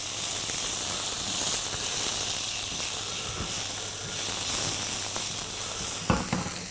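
Carrot and mushrooms fry in a pan for a ramen and beef vegetable dish, giving a steady, close, dense sizzle throughout with a brief clatter near the end and no talk.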